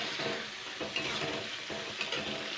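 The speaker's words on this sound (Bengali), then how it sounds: "এবার আমি পেঁয়াজ টমেটো আর হচ্ছে আদা রসুন এগুলোকে দিয়ে আমি ভালো করে কষিয়ে নেবো এই ডালটার মধ্যেই।" Onion, tomato, ginger and garlic sizzle and fry in moong dal cooked with a fish head in a pan, a close, steady crackle with soft stirring scrapes and occasional clinks.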